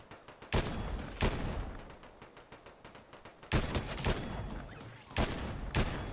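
Video game gunfire in loud separated bursts, a couple early and a cluster later, each sharp and punchy, over a low game background with no talk during the shots.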